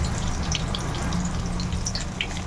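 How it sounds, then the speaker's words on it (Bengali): Paneer cubes sizzling in hot oil as they are lifted out, a steady, loud, dense hiss and crackle with scattered pops, no talk. "পনিরগুলোকে বেশিক্ষণ না দু মিনিট মতন ভেজে নেব একটু কালার আসা অবধি"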